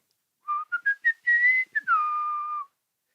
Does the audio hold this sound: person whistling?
yes